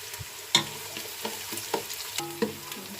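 Chopped onion fries in hot oil, a soft sizzle broken by occasional stirring clatters and scrapes of a spoon against the pan.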